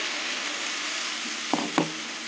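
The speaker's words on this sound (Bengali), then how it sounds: "জল দিয়ে মশলাটাকে ভালো করে কষিয়ে নেবো মশলা কষাতে কষাতে তেল ছেড়ে দিয়েছি" Spice paste of turmeric, chilli and coriander powders with green chillies frying in oil with added water, giving a steady close sizzle throughout and two brief louder bursts of stirring near the end.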